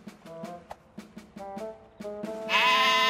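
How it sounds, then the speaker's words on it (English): Several cartoon sheep in Fireman Sam bleat in short, wavering calls at a steady pace, moderately close, before a louder, brighter sound swells in at the end. "rounding up the runaway sheep now,"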